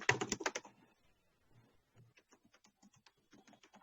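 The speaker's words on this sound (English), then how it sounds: "I'm typing for you." Typing on a computer keyboard in a Microsoft Word lesson: a burst of dense close keystrokes at the start, then a quieter run of scattered, evenly spaced key taps.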